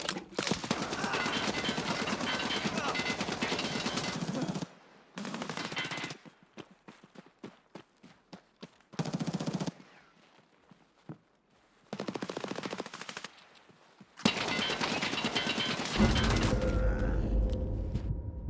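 Video game machine guns fire in loud, rapid bursts, broken by short near-silent gaps. Several sustained volleys play in close succession.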